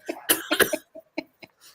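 A burst of several harsh coughs close up, followed by a few smaller, quieter coughs trailing off.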